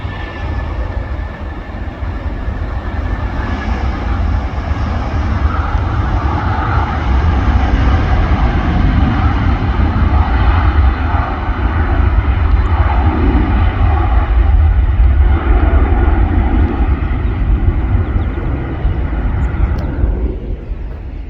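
A Gulf Air airliner rolls for takeoff at Manchester Airport, its engines a loud, broad, steady roar that swells and holds across the whole stretch before easing at the end, with no voices.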